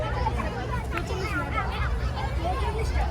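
Dense babble of a large crowd at a busy Qurbani cattle market (gorur haat) in 2024, many voices overlapping in a steady, close hubbub with children's voices mixed in.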